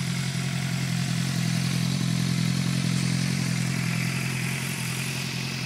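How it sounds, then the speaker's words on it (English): A Suzuki GSX-R 600 K9 25th anniversary edition motorcycle runs steadily on a cold day, a close, even engine drone with a low throbbing hum and faint mechanical clatter, no voices. "This is my bike, GSXR 600 K9 25th anniversary edition with the aero damper."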